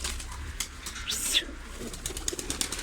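Ankara pigeons in a loft coo softly and flap their wings in a brief burst, with a constant background of other birds and no talking.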